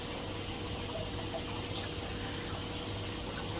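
Water trickles and splashes steadily in a fish store aquarium, fed by a drip system of PVC pipes and spilling over as the tank overflows, a constant close wash of sound with no talk.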